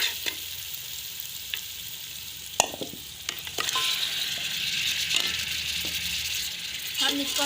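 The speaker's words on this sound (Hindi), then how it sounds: "हम इसको अच्छी तरह से भून लेंगे" Chicken pieces frying and being stirred in a pan for a curry, steady sizzle with scraping spoon clinks and clatters, close and moderately loud.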